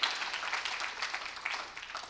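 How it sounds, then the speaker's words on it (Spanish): Congregation applauding in a church service, a dense wash of many hands clapping at moderate volume, steady throughout with slight swells and no clear voices on top. "De un fuerte aplauso al Rey de Gloria"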